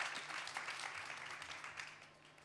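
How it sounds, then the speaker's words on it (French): Applause from an audience at a student engineering forum event, a soft, steady wash of many hands clapping, heard from a distance and fairly faint throughout. "Bravo, et on peut les applaudir."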